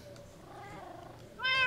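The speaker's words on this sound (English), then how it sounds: "He had like 10 cats once. I mean, they're all meowing at me." In Minecraft, ocelot-style cats let out soft meows, ending in one louder, clearer meow at the close of a short, quiet moment.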